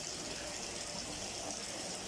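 Steady bubbling and running water in a koi fry tank, a continuous soft wash of aeration and flow that holds at an even, fairly quiet level throughout with no talk.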